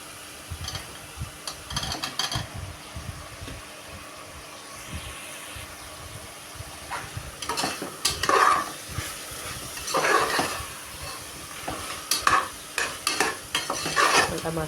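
Mushrooms stir-fried in a sizzling masala for mushroom biryani, with a steady frying hiss and repeated scraping stirs of a spoon against the pan, getting louder toward the end, no voices.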